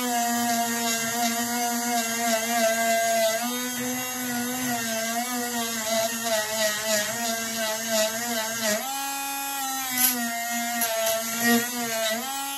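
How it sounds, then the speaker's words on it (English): A power wire brush scuffs the feed lips of a Ruger 10/22 rotary magazine, giving a steady high-pitched whine with continuous buzzing tones and slight pitch shifts as pressure changes, running alone without talk. "I'm just gonna run a little wire brush over this, just to give it a quick kind of scuff cleanup"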